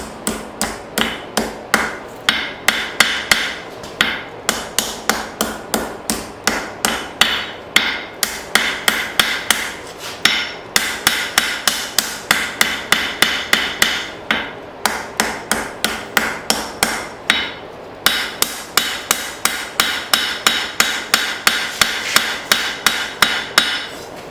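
Rapid, steady hammer blows ring out on hot steel as an old file is forged on an anvil, a loud metallic clang repeating in long runs with brief pauses between bursts.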